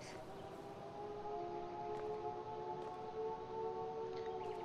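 Steady wailing siren tones from the video game Life Is Strange: True Colors hold under a faint background, with a few soft clicks; a continuous electronic-sounding drone.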